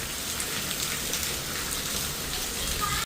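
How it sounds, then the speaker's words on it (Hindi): Heavy monsoon-season rain pours down hard, a dense, even hiss of drops on surfaces that stays loud and unbroken from start to finish. "रास्ते में इतनी जोर की बारिश आई है"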